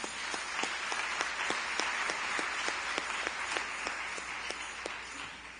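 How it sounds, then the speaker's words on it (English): Congregation at a Church of God of Prophecy national convention in the Bahamas applauds the singers, a sustained wash of clapping with distinct sharper claps standing out in an irregular rhythm, fairly distant in a large hall. "They deserve a round of applause."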